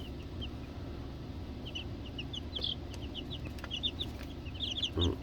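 Soft, scattered clucking from a few young chicks, including Silkies and a buff rooster, over a low steady hum, quiet and fairly close, with no talking.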